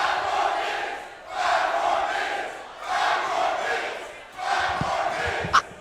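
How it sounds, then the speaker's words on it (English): A wrestling crowd at a Tidal Wave event chants in loud, rhythmic waves, four swelling bursts of massed voices with brief dips between, ending on a sharp impact. "And the crowd are braying for 5 more minutes."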